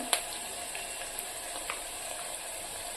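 Onions fry in a pan for an eggplant and potato curry, giving a steady, soft sizzle with faint crackles and one sharper pop near the start, moderately close and alone.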